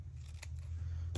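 Scissors trimming paper for a junk journal, a couple of quick, soft snips close by over a low background hum.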